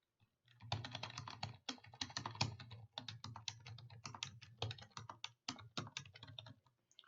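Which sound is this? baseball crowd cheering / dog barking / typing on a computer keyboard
typing on a computer keyboard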